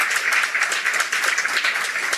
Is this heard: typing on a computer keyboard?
no